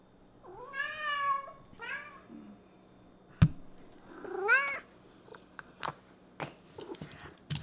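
A hungry house cat meows repeatedly while waiting for wet food, several clear rising-and-falling meows close by, spaced apart with a few small thumps and clicks between them.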